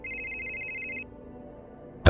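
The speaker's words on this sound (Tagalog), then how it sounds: "nagising po ako sa malakas na pagre-ring ng cellphone ko" A cellphone rings loudly as a horror-story sound effect, a steady electronic trill that cuts off after about a second, leaving a low hum and then a sharp burst at the end.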